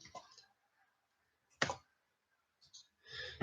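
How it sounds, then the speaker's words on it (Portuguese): One computer keyboard key, the T, is pressed with a single sharp click standing out in a quiet room, between brief fragments of a voice. "apertei a tecla T do teclado"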